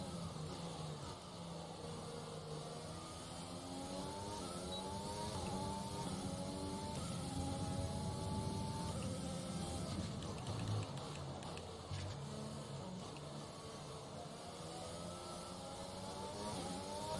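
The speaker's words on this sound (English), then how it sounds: "Oh, the engine's too loud." A Mercedes-powered Formula 1 car's engine roars steadily in the F1 2020 racing game, its rising and falling harmonic whine sweeping up and down through gear changes, loud and continuous with no one speaking.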